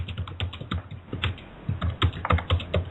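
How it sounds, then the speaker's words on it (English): Rapid, heavy keystrokes clatter on a computer keyboard, a close, uneven burst of hard taps coming through a narrow, phone-like line. "Who's hammering on the keyboard?"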